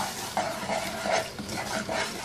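Semolina being dry-roasted in a pan for suji halwa, with irregular scraping and stirring strokes and a soft sizzle, close and fairly quiet, no talk.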